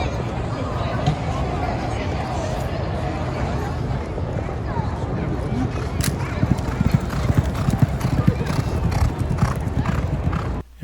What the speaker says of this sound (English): we get another look here at Early On, who's going at a little bit of a faster pace than the horse following, who is Chunk of Gold